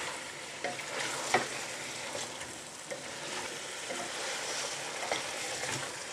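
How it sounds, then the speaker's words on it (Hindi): Chicken fries with red chillies and turmeric in a steady, moderate sizzle, punctuated by several stirring scrapes and knocks of the spoon against the pan. "अब इसके साथ इसे भून लूँगी मिर्चों के साथ"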